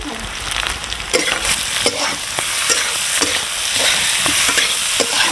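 Ground masala frying in hot oil for egg curry, a steady loud sizzle broken by scraping stirring strokes and clatter at irregular intervals, heard up close with no talk.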